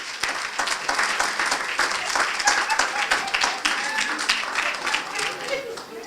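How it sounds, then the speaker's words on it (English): An audience at a building dedication ceremony claps as a senator comes up, a lively, uneven burst of hand claps from a gathered crowd with voices mixed in. "Come on, clap your hands as she comes."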